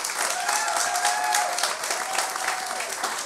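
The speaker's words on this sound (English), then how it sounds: "Let's get another round of applause for Jordan, Kate, Kirsten, and Joe" A comedy-show audience claps and cheers for the performers in a dense, sustained burst of applause that holds steady throughout, with a faint voice or whoop rising above the crowd.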